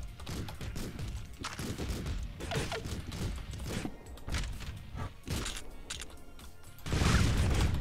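Gunfire in the Streets of Rogue video game, a quiet run of sharp shots and thuds scattered across the clip, ending in a louder burst of impacts.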